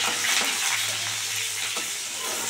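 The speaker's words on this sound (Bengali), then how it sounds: "পেঁয়াজটা দিয়ে দেবো, দিয়ে একটু ভালো করে ভাজা ভাজা করবো।" Onions frying in hot oil with five-spice, cumin and bay leaf for a prawn and vegetable dish, a steady close sizzle with a low hum beneath and no talking.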